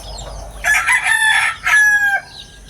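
A rooster crows nearby, a loud drawn-out call in two strained bursts, with faint background noise before and after.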